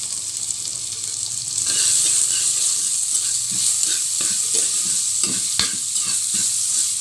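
Onions sauté with salt in a pan for a tomato black pepper rasam, a steady close sizzle with the scrape of a spoon stirring now and then, no voices over it.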